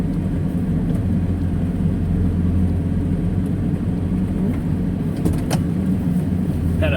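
A big truck travels along a narrow road, its engine a steady, loud low rumble heard from inside the cab, with a few faint clicks and rattles.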